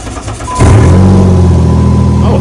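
A demolition derby car engine, just repaired after a win, cranks and catches at once, then roars into a loud, steady, throaty rev that holds close up for the rest of the moment.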